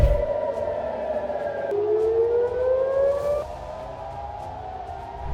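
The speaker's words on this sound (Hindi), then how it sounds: "सायरन की तेज आवाज और हर तरफ दहशत का माहौल" An air raid siren in Jerusalem wails continuously at moderate distance during an Iranian missile attack, its pitch sliding up and dropping in repeated cycles over a low rumbling background.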